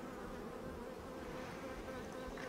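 Honeybees at a bee sanctuary on Niue, producing a low, steady, faint buzzing hum that continues without break, with no voices over it.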